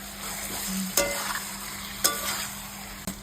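Chicken liver and gizzard masala with Kashmiri chili frying in a covered pan, giving a steady close sizzle with a few sharp knocks, like a lid or spoon striking the pan.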